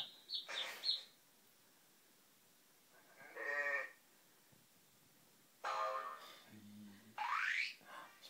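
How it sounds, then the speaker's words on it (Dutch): Several bleating sheep calls in separate bursts with pauses between, fairly close, mixed with a few higher chirping bird-like squeaks. "Oh, een schaap?"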